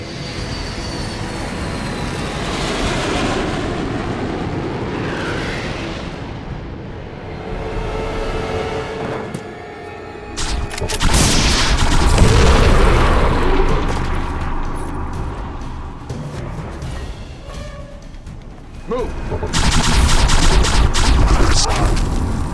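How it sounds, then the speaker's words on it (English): Loud aircraft bomb run from an alien-armada space battleship film, with a sustained roaring rumble, bursts and rapid explosive rattles, surging twice to heavier blasts near the end. "Start the bomb run."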